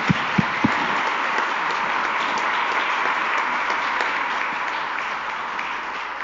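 Applause for a young altar server during a Lent church service, a steady wash of clapping from the congregation that carries on evenly throughout after a few sharp early claps.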